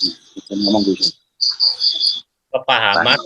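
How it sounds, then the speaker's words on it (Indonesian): High, rhythmic cricket chirps pulse steadily through a phone call, the pulses broken by short gaps as a caller speaks over them. "Ada suara seperti suara jangkrik."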